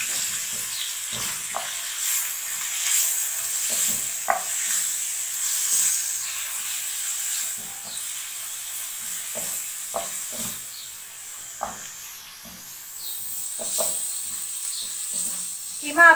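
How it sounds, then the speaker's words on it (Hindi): Minced meat fries with green chillies, salt and red chilli powder in a pan, giving a steady soft hiss with occasional small pops and stirring clicks, moderately close and without talk. "सिर्फ हमने जस्ट कीमे को हरी मिर्चें, नमक और लाल मिर्च पाउडर के साथ फ्राई करना है।"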